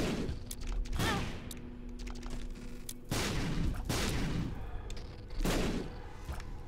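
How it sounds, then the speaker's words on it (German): Repeated sharp, booming explosive shots in The Binding of Isaac: Rebirth burst at irregular intervals, each with a crackling explosive tail, set against a steady game background hum. "Das sind Explosionen, die ich schieße."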